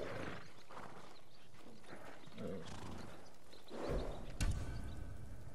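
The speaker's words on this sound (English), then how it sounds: "They're samurai horses. The few we didn't take into battle." Samurai horses in Ghost of Tsushima snort and whinny at a stable while hooves clop and shuffle nearby, ending in a brief louder thud, with no talk over them.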